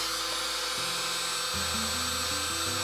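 Battery-operated Belle portable nail drill whirring at full 30,000 RPM, a steady high-pitched electric motor whine that shifts pitch in steps, running alone and close.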